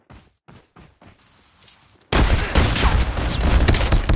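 Sniper gunfire in a video game: a few sharp cracks at the start, then a sudden loud, sustained burst of dense shooting and explosions that runs to the end.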